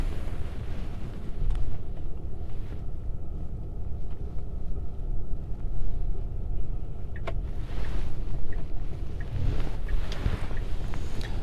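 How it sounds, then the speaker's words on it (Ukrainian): A car shifts into reverse and rolls at an outdoor used car market, a low engine rumble with wind buffeting the microphone and a few faint clunks, steady and fairly close with no talk. "Включаємо задню."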